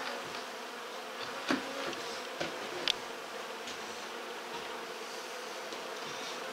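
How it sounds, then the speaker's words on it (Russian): Bees buzz steadily around a honey extraction setup while supers are removed. A faint, continuous swarm drone carries a few louder passes close by, with no talking. "везде пчелы уже."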